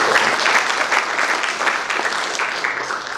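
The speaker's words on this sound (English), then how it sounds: "Can we please have a huge round of applause for him?" An audience at a constitutional law symposium in India gives a hearty round of applause, loud and close, with many hands clapping steadily and unbroken throughout.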